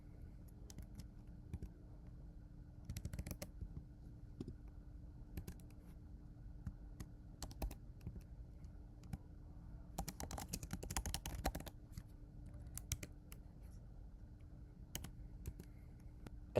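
Code being typed on a computer keyboard: steady, soft key clicks at close range, with quick bursts of faster typing and short pauses between them.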